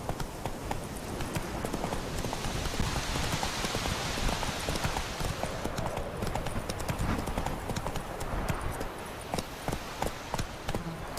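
Hoofbeats of Roach, the horse in The Witcher 3, galloping in a steady rapid clip-clop under a dense wash of rain-like ambient noise, close and continuous throughout.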